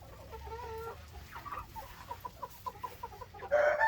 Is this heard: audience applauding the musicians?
no